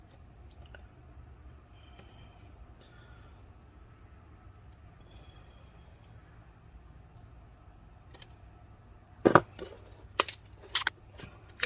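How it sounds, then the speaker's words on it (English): Cutters snip the metal pins of a laptop DC jack, first heard as faint clicks over quiet room hum, then as several sharp, close snaps and clicks near the end. "So I'm going to actually cut those metal pins."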